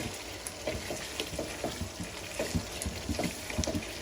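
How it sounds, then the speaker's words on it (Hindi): Chicken and bottle gourd curry sizzles in a pan as cumin masala is fried into it over a medium flame, a steady soft crackle broken by small stirring scrapes, close and moderately quiet with no talking. "फिर हम इसमें डाल देंगे अपना ये जीरा मसाला जो है इसमें, और अच्छी तरह इसको भूनेंगे 10 मिनट दरमियानी फ्लेम पे"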